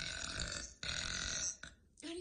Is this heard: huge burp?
yes